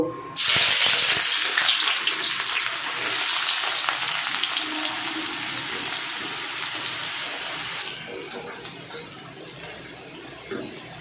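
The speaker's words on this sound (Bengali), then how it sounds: "কড়াতে তেল দিয়ে দিয়েছি, তেলটা গরম হয়ে গেছে। এবার আমি পেঁয়াজ, আদা, রসুন কুচিগুলো দিয়ে দেব।" Chopped onion, ginger and garlic hit hot oil in a wok, bursting into a loud hissing sizzle that settles into a steady fry, with an abrupt drop in intensity near the end.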